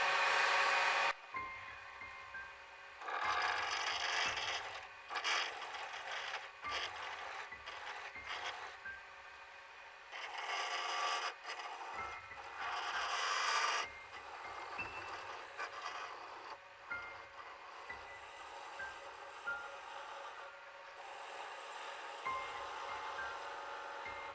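A wood lathe spins a pen blank at roughly 1200 to 1700 rpm while a skew chisel cuts it, giving a steady high whine with rough scraping bursts as the tool contacts the wood.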